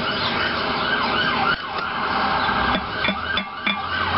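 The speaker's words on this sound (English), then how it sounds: "I hear the police in the neighborhood." A police siren wails through a neighborhood, its rising and falling tone carrying from a moderate distance over a continuous background rumble, with a few sharp knocks nearby.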